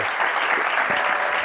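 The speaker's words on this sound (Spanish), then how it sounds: "un aplauso para José." A studio audience at a talk-show taping applauds in a steady, dense wash of clapping, loud and close throughout.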